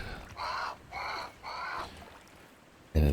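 A crow in the Grounded video game caws three times at a steady, even pace. The calls are clear and moderately loud, followed by a pause and then a sudden loud thump.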